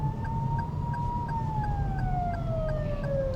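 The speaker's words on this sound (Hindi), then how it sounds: "पीछे एम्बुलेंस आ रही है" An ambulance siren sounds behind in busy street traffic, with a steady wailing tone that slowly glides lower over a constant rumble of road noise.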